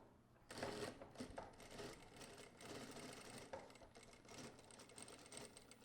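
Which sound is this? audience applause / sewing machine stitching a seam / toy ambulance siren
sewing machine stitching a seam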